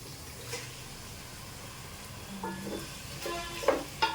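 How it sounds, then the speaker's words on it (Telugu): Cleaned prawns hit hot oil in a pan while cooking a prawn pulao, giving a quiet, steady sizzle with a few clinks and stirring scrapes near the end. "ఇలా వేగిన తర్వాత ముందుగా శుభ్రం చేసి పెట్టుకున్న రొయ్యలను అయితే వేస్తున్నాను"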